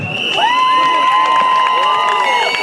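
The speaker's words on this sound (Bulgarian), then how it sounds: "Аплодисменти за всички абитуриенти." A crowd at a graduation send-off for school leavers cheers and whistles loudly nearby, with sustained shouting and sharp tonal whoops that stay strong and steady for the whole short burst.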